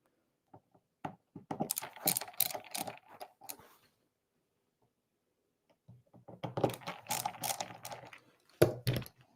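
Screws being loosened on a pinball machine playfield, close and dry: two bursts of quick ratcheting clicks and small metallic ticks separated by a pause of silence.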